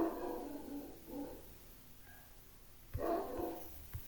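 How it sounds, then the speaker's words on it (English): Several dogs bark in a few short bursts somewhere off in the house, faint and distant, with quiet pauses between the barks. "Oh, my dogs are barking."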